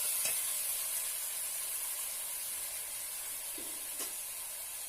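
Banana flower sizzles steadily in a hot pan as it is fried and stirred, giving a constant hiss with a few faint scrapes from the spoon and no voices.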